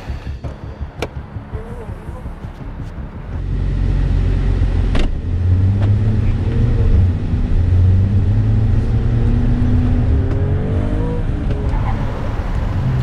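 A Mercedes-AMG CLS 53 pulls away, its engine swelling from a low idle into a steady, loud, close drone as the car drives off and holds speed.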